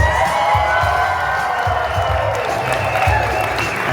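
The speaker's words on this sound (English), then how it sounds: "One more thunderous applause." Wedding reception guests applaud and cheer in a steady, dense wash of clapping and crowd noise that fills the room at close range, with some voices mixed in and no single standout shout.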